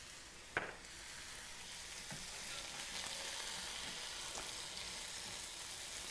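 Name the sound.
sautéing beans and spinach in a pan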